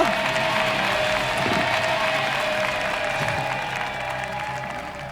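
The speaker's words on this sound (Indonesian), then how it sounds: "tepuk tangan dulu" Audience applause at a televised talent show, a steady wash of clapping from a studio crowd that holds through and eases slightly near the end, with a faint tone and a few voices underneath.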